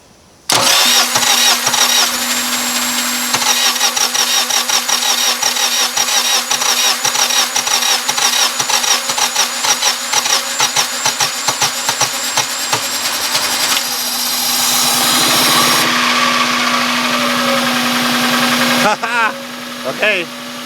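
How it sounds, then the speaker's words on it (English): A car engine cranks and catches after the ignition is turned on, then settles into a steady, loud idle with a rhythmic mechanical ticking, with a brief rise near the end and a voice speaking briefly over it. "So I'm going to turn the ignition on and see what happens."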